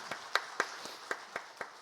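A church congregation gives scattered applause at a Sunday worship service at Daegu Sinam Church: about seven separate, sharp claps at an uneven pace, fairly faint and with no talk over them.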